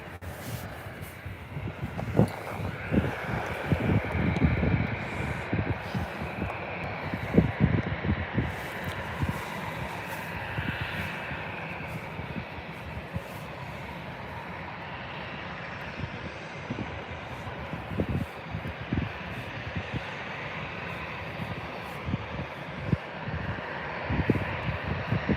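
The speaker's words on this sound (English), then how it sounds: "Got a Embraer E195AR coming in." At Birmingham Airport, an Embraer E195 airliner on approach produces a faint, distant low rumble that swells and fades irregularly, with scattered wind-like bumps over a soft background.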